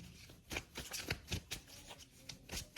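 Tarot cards shuffled by hand in quick soft riffles and slaps, a close, continuous flutter of repeated card strikes lasting a few seconds with no speech.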